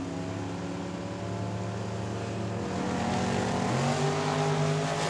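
Dragster engines at Tucson Dragway roar steadily under a lone announcer's voice, then swell louder and higher as a second car launches and the pair accelerate down the strip.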